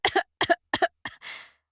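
A storybook character coughs after being pulled out of a muddy bog: three quick, close double-coughs in a row, then a rougher, breathy throat-clearing hack that trails off.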